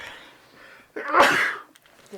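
A single sharp sneeze bursts out loudly and close after a soft breathy intake, followed by quiet.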